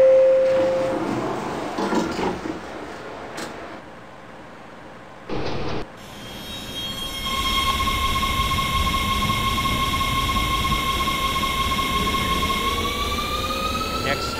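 A simulated WMATA DC Metro 1000 Series Rohr train on the Red Line toward Silver Spring in the Openbve game: a short chime, a quiet gap, then a rising motor whine and steady rolling rumble as it pulls away.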